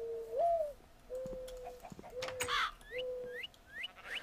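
Birds in Minecraft cooing in a series of soft rising calls, several separate coos close by and fairly clear against a quiet background, no talk.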